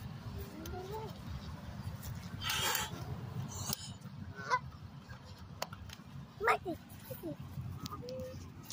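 Geese and ducks at a pond honk in scattered, sharp calls, some close and a few louder bursts, over a soft outdoor background. People and children talk in between the calls.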